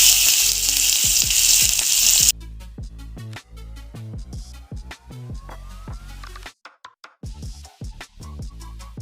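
Fish drops into hot oil on a single-burner stove with a loud crackling hiss. The sizzle then carries on in bursts broken by sharp spattering pops and brief gaps, close and strong throughout.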